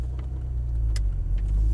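A Volkswagen Golf GTI Mk2 pulls away from a road junction under firm throttle, heard from inside the car as a steady low engine drone with faint clicks and rattles over it.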